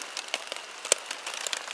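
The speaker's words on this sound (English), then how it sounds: "It's been raining now for about an hour and a half, and it's been heavy rain to medium rain" Heavy rain drums steadily on a survival shelter during an overnight storm, a dense hiss broken by scattered louder drops and one sharp close tap.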